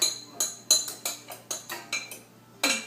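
Almond flour, baking soda and flax seed are mixed in a bowl for cookies, heard as about ten sharp, close utensil clinks and scrapes against the bowl in an uneven rhythm, with no talking.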